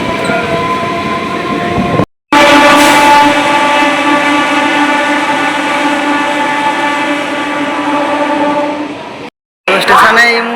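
A passenger train pulls away from a station, a loud sustained rumble with a steady tonal hum and rising wheel noise that fills the clip, broken by two short gaps.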